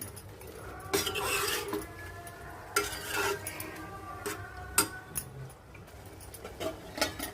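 A spoon stirs curry thickened with peanut powder in a pot, making repeated scraping and clinking strokes against the metal over a faint simmer, close and uneven in rhythm.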